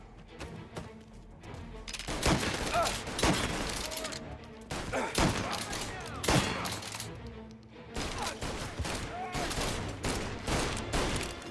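Rapid gunfire rings out in Mafia Definitive Edition, dense bursts of shots repeating near and loud across the whole stretch, mixed with shouting voices.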